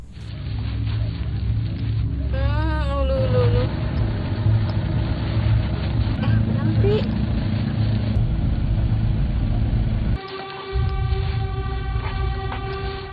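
A car in a film drives and turns around, its engine a steady loud rumble throughout with a brief dip near the end, mixed with eerie tonal music and a short spoken word.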